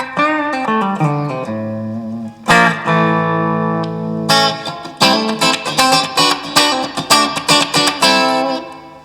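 An electric guitar through a TC Electronic Nova System compressor plays a descending run, then sustained chords and a rhythmic strummed pattern, sounding even and squeezed, loud and close.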